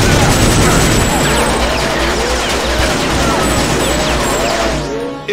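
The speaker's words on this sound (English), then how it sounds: "Chill out with the bullets, man!" Dense, continuous gunfire from the video game TimeSplitters: Future Perfect, a loud sustained barrage of rapid shots and ricochet-like whistles filling the whole stretch, with no talk over it.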